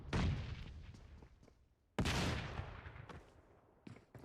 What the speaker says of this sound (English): I can hear the shotgun, but I'm not sure who is trying to attack.